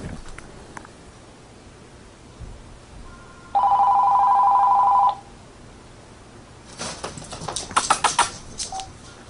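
A telephone bell rings in one steady, loud burst of about a second and a half, then stops, followed by clattering, shuffling handling noises close by.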